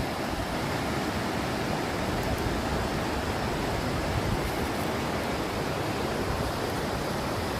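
Creek water flowing steadily beside an old lodge site in a burnt forest, a continuous broadband rush that stays close and even throughout, with no voices over it.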